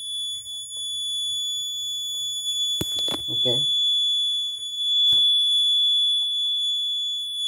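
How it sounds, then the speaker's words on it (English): A women's safety alarm device built on a Raspberry Pi Pico with fingerprint sensor, GSM and GPS sounds a steady, piercing electronic alarm tone that runs through the whole stretch, with a short spoken word and a few clicks partway in. "Alarm on."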